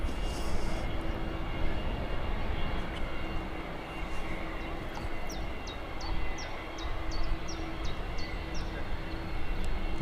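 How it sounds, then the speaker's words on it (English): Aircraft engines roar steadily at Birmingham airport as airliners prepare to depart, a broad continuous rumble with bird chirps breaking through partway along. "It looks like the Air France is going to be first to depart, and then the Dreamliner."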